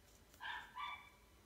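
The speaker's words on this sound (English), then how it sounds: "my neighbor's dog in the background." A neighbor's dog barks faintly in the background, two short yips in quick succession heard from some distance.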